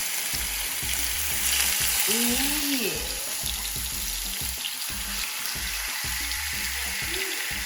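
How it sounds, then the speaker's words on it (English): Chicken sizzles steadily in a hot frying pan, a constant crackling hiss with a stirring clatter and a brief voice over it. "you're going to heat up your pan that is going to saute your chicken"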